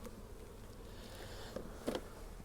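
Honey bees from a newly installed nucleus colony hum softly in and around the hive, a faint steady drone with a couple of brief closer buzzes passing by.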